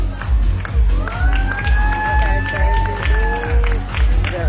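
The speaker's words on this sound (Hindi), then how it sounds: "तो एक बार जोरदार तालियां हो जाए हमारे AWPL के स्टाफ के लिए." An audience at an International Women's Day company celebration claps and cheers loudly, with whoops and whistle-like tones rising over a pulsing rhythmic beat and voices in the crowd.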